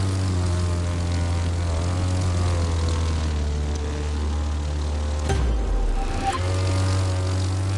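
A propeller plane in The Crew 2 drones loudly and steadily, its engine tone holding constant with a brief dip and swoosh as it banks or maneuvers, heard close and alone.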